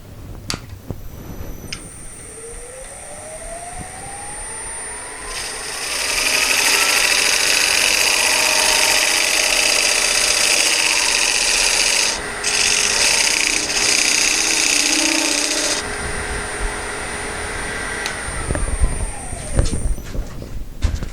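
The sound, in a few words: square scraper cutting wood bowl recess on lathe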